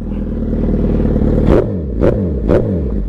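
A motorcycle engine idles with a loud, steady rumble, then is revved three times in quick succession, each sharp rise and fall close and prominent.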